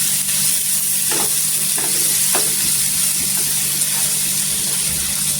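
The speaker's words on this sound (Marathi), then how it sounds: "भाजी टाकल्यानंतर भाजी पण छान अशी तेलावर परतून घ्यायची।" Capsicum pieces stir-fried in hot oil for a dhaba-style dry sabzi, giving a steady close sizzle with a few scraping stirs of the spatula and no talking.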